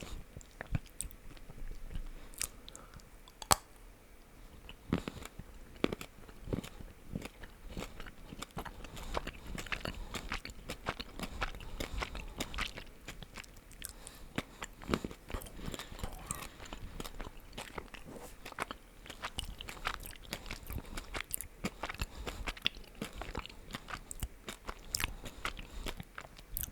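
Up close, teeth snap into a 71% dark chocolate shell filled with pure French hazelnut praline, fine cacao paste and caramel shards from a Paris chocolatier, giving sharp crunches followed by steady, irregular chewing and crackling over a quiet background.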